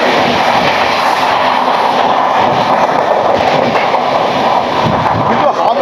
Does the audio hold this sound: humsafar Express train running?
yes